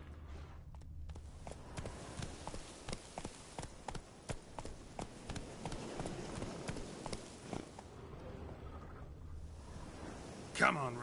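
Roach, the horse in The Witcher 3, moves at speed with a steady, rhythmic clip-clop of hooves across several seconds, moderately close, ending in a sharper burst; no clear speech over it.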